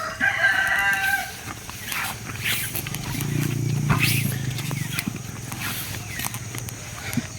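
Birds calling on a mountainside, with a rooster-like crow near the start, then scattered clucks and chirps over a quiet outdoor background.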